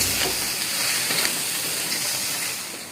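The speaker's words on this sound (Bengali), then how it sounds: "আর এই চিংড়ি মাছ ভাজা হচ্ছে" Prawns frying in a pan, a steady broadband hiss and sizzle that holds evenly for about three seconds and eases slightly at the end, with no voices over it.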